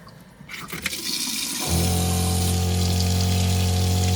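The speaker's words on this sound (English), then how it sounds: "That's how long it takes for hot water to come through." Hot water gushes from a tap, pumped through the line. A soft rush swells into a loud, steady flow with a constant pump-like hum, close and continuous.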